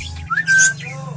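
African lovebirds in a breeding cage give a sharp, loud squawk and whistle-like call, close by. A steady low hum runs underneath, and nobody speaks.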